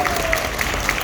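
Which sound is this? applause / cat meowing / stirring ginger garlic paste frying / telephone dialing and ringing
applause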